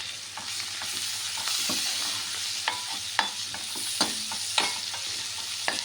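Beaten eggs with milk frying in hot oil in a pan for egg fried rice, a steady close sizzle with several sharp utensil clicks and scrapes breaking through.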